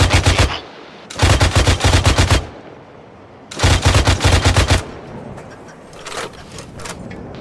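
Automatic gunfire in the military video game Arma 3: loud, rapid bursts of machine-gun fire in three long volleys separated by pauses, followed by fainter distant shots.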